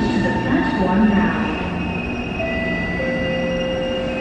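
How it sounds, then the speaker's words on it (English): A Singapore metro train, C151 stock, rumbles into Marina South Pier station on the last service, wheels faintly squealing with steady mechanical hum and tonal whine, loud and close, no talking. "The last train to Kranji via Woodlands is arriving."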